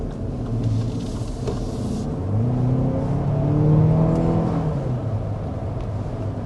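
A 2025 Lexus TX 500h F-Sport hybrid SUV accelerating, its engine rumble rising in pitch, easing, then climbing again as it shifts gears, heard steadily from inside with no talking.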